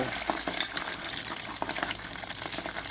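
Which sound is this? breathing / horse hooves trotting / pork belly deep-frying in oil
pork belly deep-frying in oil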